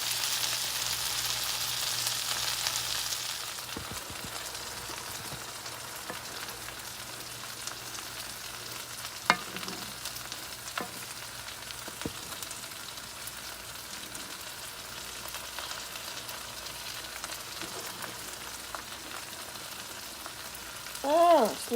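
Okra pan-frying for cream corn and fried okra, a steady soft sizzle and crackle running throughout with a few sharper pops and a brief scrape near the end.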